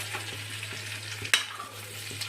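Spices being stir-fried and browned in a pan for a prawn curry after the prawns were fried, a steady soft sizzle with a few light scraping stirs and one sharp clack near the middle, no talking.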